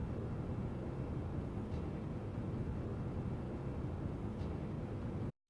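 Broad city skyline ambience forms a steady, dense wash of distant traffic and urban rumble with no distinct events and no voices, then cuts off abruptly at the end.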